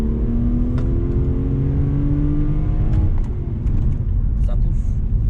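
A car imported from England, an estate model, accelerates with an engine note that rises in pitch and then eases off as it slows under braking. A voice is briefly heard near the end.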